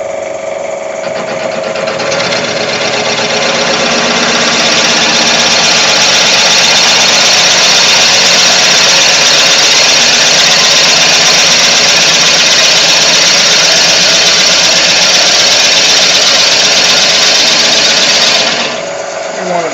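A lathe turns at about 500 RPM, giving a loud, steady whirring drone that runs almost unbroken for the whole stretch before cutting off near the end.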